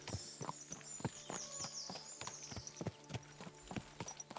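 Hooves of a horse in the video game Kingdom Come: Deliverance 2 clip-clop at a steady walking pace, close and fairly quiet, with a faint high whine drifting above.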